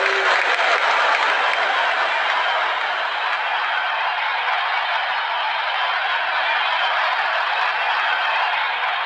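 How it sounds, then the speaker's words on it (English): A stadium crowd in the Real Cricket video game cheers and applauds steadily, a dense, loud roar of clapping that holds without a break throughout. "Crowd is going crazy."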